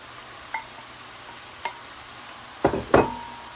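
A large batch of leftover rice fries in a large pan over a soft background sizzle, broken by a few brief scrapes, then two louder stir strokes near the end.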